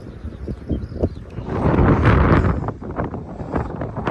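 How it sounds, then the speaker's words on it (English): Gusting headwind buffets the microphone on a coastal seawall walk, a loud low rumbling roar that swells in the middle and eases, with no talk. "it's a headwind, which just makes it a bit harder"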